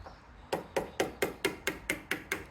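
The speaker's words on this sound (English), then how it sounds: "you can take like a screwdriver and a mallet or a small hammer to kind of get it started" Steady metallic taps from a mallet on a screwdriver against a BMW Z3 locking ring, about nine evenly spaced strikes, close and moderately loud with no talking.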